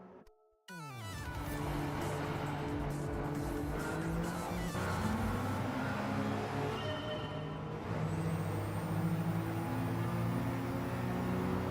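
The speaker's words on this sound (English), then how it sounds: "Oh, my car's got big turbo noise." Loud race car engines roar continuously in Gran Turismo 7, with a sustained turbocharged drone, shifting pitch and a high whine near the end, the engine noise staying steady throughout.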